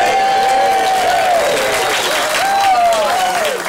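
Studio audience in a tour room clapping steadily throughout, a dense, close wash of applause with scattered cheers and a few voices mixed in.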